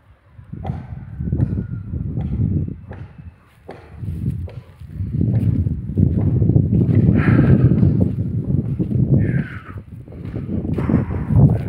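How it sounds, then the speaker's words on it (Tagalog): Strong cold wind buffeting the microphone on a pine-covered mountain, a continuous low rumbling roar with gusts rising and falling, close and loud, with a few faint thuds and brief higher sounds on top. "Malakas ang hangin."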